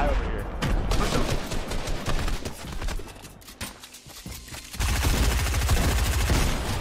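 Rapid automatic gunfire in a Fortnite Battle Royale duo match, loud and nearly continuous with bursts overlapping one another, while players talk excitedly over the shooting.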